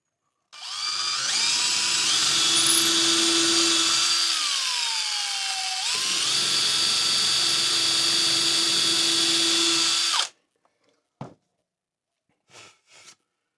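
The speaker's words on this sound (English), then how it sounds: "I've actually got to drill that one there a little bit deeper" A power drill whines loudly for about ten seconds, dipping in pitch as it bites deeper into a hole in wood, then stops, followed by a few brief clunks.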